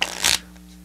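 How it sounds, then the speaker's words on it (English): A deck of playing cards is shuffled close up, one quick riffling burst that ends abruptly into quiet. "You start by shuffling the cards like this"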